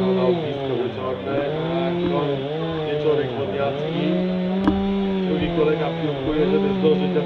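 A motor saw cuts through material at an outdoor rescue competition, a loud, steady droning whine whose pitch dips and rises with the load. Speech runs over it throughout.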